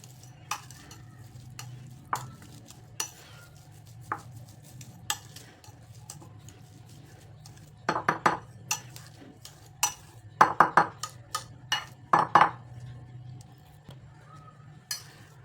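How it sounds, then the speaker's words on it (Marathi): A boiled potato being mashed in a bowl, heard as scattered soft knocks and scrapes that grow into quick clusters of sharper taps toward the end, close by and alone over a low steady hum. "आता एक बटाटा घेतला आहे त्याला स्मॅश करायचं आहे"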